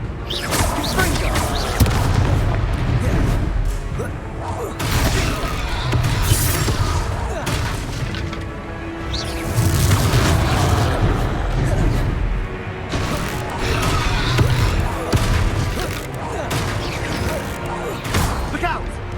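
Fire-curse explosions from the Confringo spell in the Hogwarts Legacy game crash and boom in repeated blasts, mixed under a loud voice shouting spell names and dense game action.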